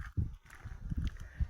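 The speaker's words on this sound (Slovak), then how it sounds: "Kôň Przevalského." A Przewalski's horse at a zoo makes a few dull, uneven hoof thuds on the ground nearby, with quiet background noise between them.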